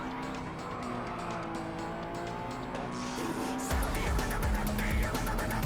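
A race car in Gran Turismo 7 VR drones steadily close by, then surges louder as the engine note rises, with tyre noise over a continuous roar and no talking.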